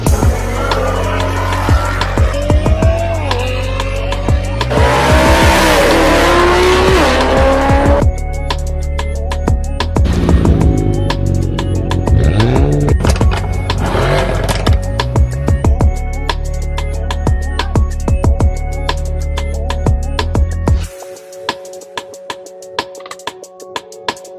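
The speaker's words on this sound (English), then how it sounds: "Love that V8 sound." A loud V8 car engine revs and roars with tire squeals, rising and falling pitch as it accelerates, then shifts to a rapid ticking idle near the end.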